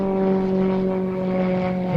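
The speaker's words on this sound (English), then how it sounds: "That model, built by a company called Krill, it's just under 3 metres long and just over 3 metres in wingspan." A Krill radio-controlled model aircraft, just under 3 metres long with a 3-metre wingspan, drones with a steady, loud propeller hum, holding an even pitch for the whole moment.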